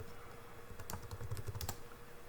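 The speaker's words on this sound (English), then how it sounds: "Then confirm your password" Keys on a computer keyboard clatter in a quick irregular burst as a password is typed, soft and close with a low background hum.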